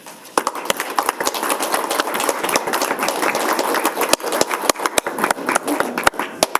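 An audience at a school district board meeting applauds the three Teacher of the Year finalists, with dense, steady clapping from many hands that continues throughout and ends with a few scattered louder claps.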